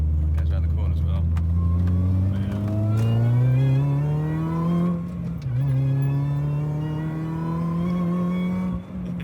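A BMW M62 car engine with an Eaton supercharger conversion revs up with a rising, whining harmonic pitch that climbs and holds, loud and steady, with a smooth supercharger tone.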